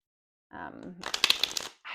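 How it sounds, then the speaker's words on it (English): A quick shuffle of thick oracle cards, a short burst of papery riffling clicks, set between brief moments of speech. "They shuffle really nicely."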